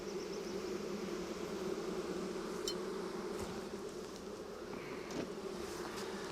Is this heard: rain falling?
no